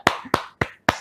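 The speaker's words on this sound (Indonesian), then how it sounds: "Tepuk tangan semuanya." Four sharp hand claps spaced evenly, close and loud, from a small group or a single person during a talk-show style interview, with no talking over them.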